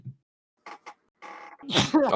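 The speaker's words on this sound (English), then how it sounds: "Sorry, I had to sneeze." A sharp sneeze bursts out near the end after a few brief voice fragments, loud and close, followed by a short breathy trail.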